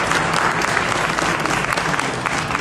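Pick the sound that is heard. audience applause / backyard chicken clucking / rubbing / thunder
audience applause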